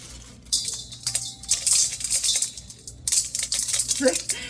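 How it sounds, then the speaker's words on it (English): Frozen elderberries on their stems shaken around inside a bag in a home kitchen, giving a dry, irregular rattling and rustling in bursts over about four seconds, close up and fairly loud, with no talk. "So I can just kind of shake these around in the bag."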